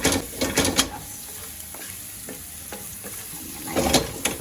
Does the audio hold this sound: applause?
no